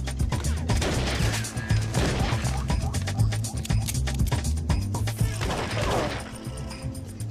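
Gunfire erupts during a hold-up shootout in a TV drama: rapid, sharp bursts of shots crack one after another over a few seconds, loud and close, with clattering impacts mixed in.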